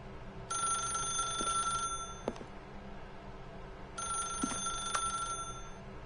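Telephone ringing in the video game The Stanley Parable: two electronic ring bursts with steady bright tones, each lasting about two seconds and separated by a pause, set over a low background hum.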